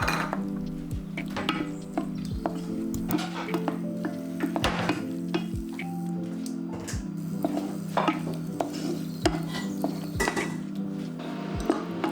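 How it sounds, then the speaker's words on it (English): Tofu is stirred in a pan as a teriyaki-style pineapple sauce thickens around it, a spoon clinking and scraping in irregular knocks over a steady low simmer, close by. "Give it a stir and let the liquid thicken around the tofu."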